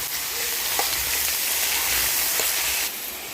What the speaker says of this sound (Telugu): ఇలా పోపు వేగాక మనం చాప్ చేసుకున్న వంకాయలు కూడా వేసి బాగా ఫ్రై చేయాలి